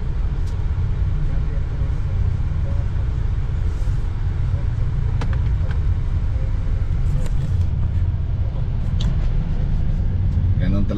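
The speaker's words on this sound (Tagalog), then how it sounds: "Traffic lagi masyado." Cars and buses sit in a dense traffic jam during a Flores de Mayo procession, producing a constant low engine rumble with occasional faint higher clatters, and voices talk over the noise.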